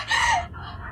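A hen on the ground gives one loud, close squawking cluck that fades into quieter clucking, with no talk over it.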